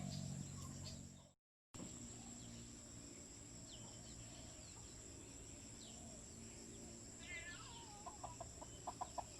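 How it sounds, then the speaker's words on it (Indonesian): Chickens cluck near a cleared pineapple patch against a steady background of insects and crickets, with a brief drop-out early on and a few short clucks near the end. "Itu ayam. Ini ayam kami lah."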